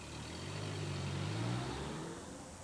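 A 1997 Subaru Forester driving on the road, its mid-pitched engine note swelling and easing as it accelerates, with steady road and wind rumble throughout and no talking.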